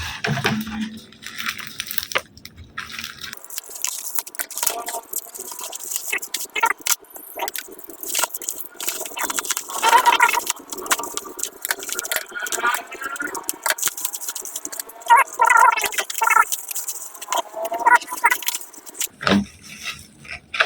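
Bubble wrap packaging from a Timemore Slim 3 coffee grinder being handled during unboxing, with constant close crinkling, rustling and small pops running throughout and a brief low sound at the start.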